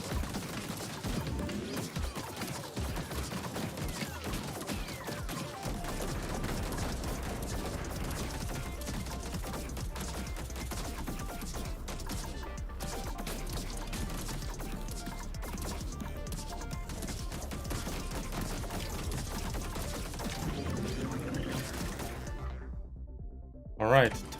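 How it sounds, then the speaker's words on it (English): A wheeled battleship in Terra Tech Legion rolls over enemies with a steady mechanical rumble, joined by clattering impacts, crunches and scattered gunfire throughout, then a final thump at the end. "Run over some of these little guys."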